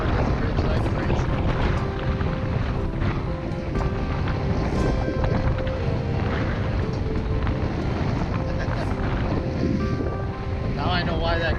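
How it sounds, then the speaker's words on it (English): Strong gusty wind roars across a suspension bridge at Oribi Gorge Nature Reserve, a loud, constant buffeting rush that batters the microphone, with a person talking over it. "Oh my gosh, it's so windy. The wind is coming. It's blowing this bridge like crazy."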